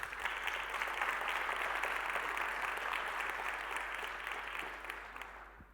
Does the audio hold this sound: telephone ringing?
no